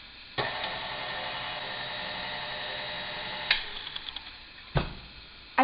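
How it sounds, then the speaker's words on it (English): An electric stand mixer whirs steadily for about four seconds as it stirs apple tart ingredients in its attached bowl, a close, even motor hum that ends with a few light clicks and a knock. "so now I attach my bowl to my mixer, and it says to stir it for about 15 seconds"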